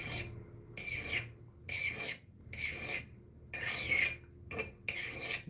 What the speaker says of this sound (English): the lighter I'm going to draw across it with my file